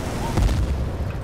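Gunfire in the video game Battlefield 2 while a player shoots at a pilot: a muffled boom-like burst of shots mid-clip over a constant low rumble of battle noise.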